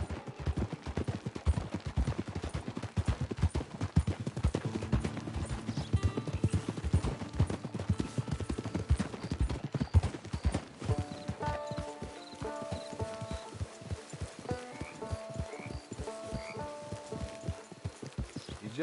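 Horse hooves clip-clop in a steady, brisk rhythm on a video-game trail, loud and close. Game music and ambience fill the background, with occasional sharp bangs like distant gunfire.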